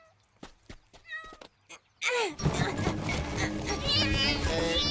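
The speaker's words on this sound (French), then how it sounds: "Styx, tu veux bien faire descendre ce chat" Cartoon cat in the Sonic Boom animated series meows in several short, close calls, followed by loud, busy animated action with children's voices and continuous sound over the rest.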